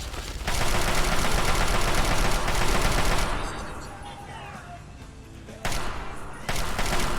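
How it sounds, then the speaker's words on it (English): Chinese assault rifle gunfire in the video game Fallout 3, a loud sustained burst of rapid automatic fire for about three seconds, then a lull, then two more short bursts. "Let's put on the Chinese assault rifle."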